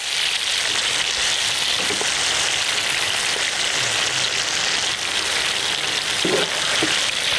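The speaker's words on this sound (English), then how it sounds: "we're not doing deep frying, we're just doing shallow frying" Chicken wings shallow frying in oil sizzle and crackle steadily at close range, a dense continuous frying hiss with occasional faint pops and clinks.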